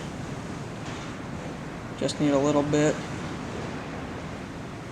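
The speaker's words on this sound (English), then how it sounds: "it's pretty windy out. You can probably hear that" Steady, broad wind rush blowing outdoors throughout, with a brief stretch of nearby speech partway through riding over the constant noise.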